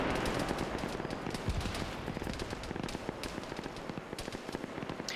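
Rapid gunfire and grenade-launcher blasts in a military video game battle, a constant crackle of overlapping shots near and far with sharper thumps scattered through.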